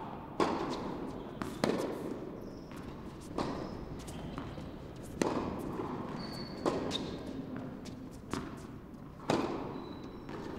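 Tennis balls are struck with rackets during a reaction-time drill on a court, sharp isolated pops spaced a second or two apart over quiet ambient noise.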